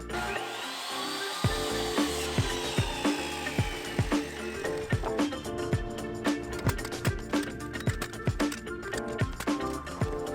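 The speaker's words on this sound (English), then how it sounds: "I can take it over my chop saw, chop it down" A chop saw's motor whines, then blade strikes fall in a regular series of sharp, repeated cuts through pressure-treated wood blocks for a shed foundation, close and loud with clatter between strokes.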